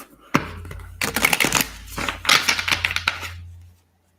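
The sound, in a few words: shuffling tarot cards for a reading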